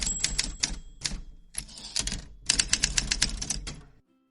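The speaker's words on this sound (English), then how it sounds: "Do we need a typewriter? I feel like maybe there's just a typewriter." Typewriter typing effect: rapid bursts of crisp mechanical key strikes in uneven clusters with brief pauses, fairly loud and close, stopping abruptly at the end.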